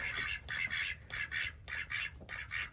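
Chickens in a backyard coop, a flock of about 28 including a young Barred Rock, give repeated nasal squawking calls in regular bursts, close and fairly loud, roughly four clusters across a few seconds over a low rumbling background.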